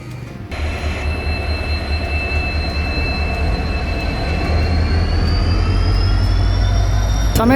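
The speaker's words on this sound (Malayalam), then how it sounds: "നമ്മുടെ വണ്ടി ഇതാ നിലമ്പൂർ റെയിൽവേ സ്റ്റേഷനിലേക്ക് എത്തിക്കൊണ്ടിരിക്കുന്നത്" A Nilambur–Palakkad passenger train rolls into Nilambur station with a steady, loud rumble of wheels on rail, high sustained wheel squeal and brake whine rising toward the end, continuous and close throughout.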